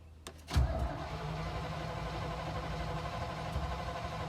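A bus engine cranks and catches after a brief starter whir, then settles into a low, rough idle, with a puff escaping from a leaky exhaust; fairly quiet and without talk.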